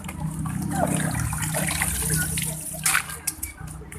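Seeds being hand-washed in water to prepare planting seed, with close sloshing and swirling water, then a few sharper splashes near the end.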